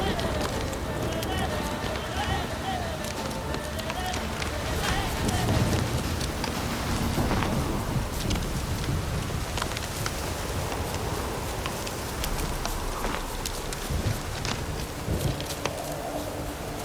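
Steady rain in the video game The Witcher 3: Wild Hunt, a continuous hiss of falling drops with footsteps or hooves mixed in, while a voice talks over it.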